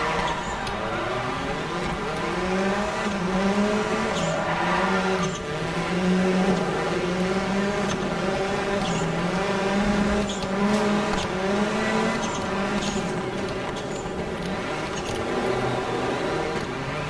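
A rally car in Dirt Rally being driven on a stage, its engine note rising and falling in repeated revving sweeps as gears change, steady and fairly close, with brief clicks and bumps mixed in.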